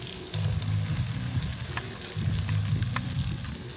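Ginger paste and green and dried chili paste frying for a village-style spicy masala pork curry, a steady close sizzle with stirring scrapes and a low droning hum running in two long stretches.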